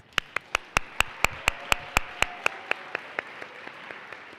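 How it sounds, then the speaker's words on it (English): Applause for the panelists at the CoMotion 2025 event: a steady train of about eighteen sharp, evenly spaced claps, crisp at first and gradually softening toward the end, with no talking. "Round of applause for our panelists."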